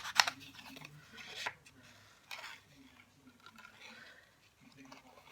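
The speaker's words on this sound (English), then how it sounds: "So I'm going to actually fussy cut around my cute little chick." Small scissors fussy cutting around a stamped paper chick for a handmade card, giving a few quiet, close snips and paper rustles while a person talks.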